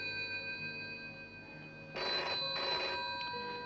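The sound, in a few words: telephone ringing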